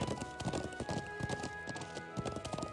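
Horse hooves in the video game Trails of Cold Steel, a rapid rhythmic clip-clop of galloping steps, loud and close, running steadily throughout over faint game background sound.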